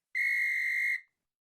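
A single sharp whistle blast, shrill and steady, lasts just under a second and cuts off into silence.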